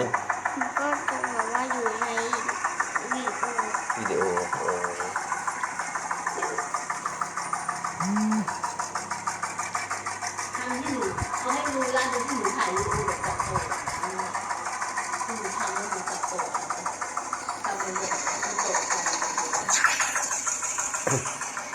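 A homemade tractor's engine runs at a steady idle with a knocking, clattering beat, close and continuous, while people talk over it throughout.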